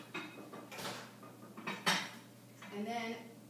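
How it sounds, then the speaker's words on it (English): A dish being put into a microwave in a kitchen, with clinks and scrapes of dishware and cutlery plus a soft mechanical clatter, fairly close and moderately loud, with faint voices in the background. "So I'm going to stick this in the microwave."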